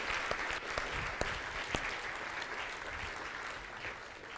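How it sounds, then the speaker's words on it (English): A small audience claps for a speaker after a talk on real estate technology, a brief steady patter of applause at moderate distance with no voices over it. "Give Helena a round of applause"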